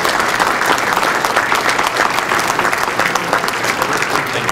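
An audience at a bicentennial kick-off event bursts into sustained applause, a dense, loud wash of clapping hands that fills the room steadily without pause.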